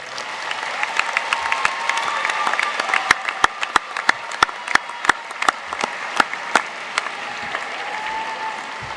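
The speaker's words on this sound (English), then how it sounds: "show them how much you appreciate them with a round of applause" A crowd of graduating seniors at a high school commencement claps steadily for parents, friends and family, with dense applause and scattered louder individual claps carrying on throughout.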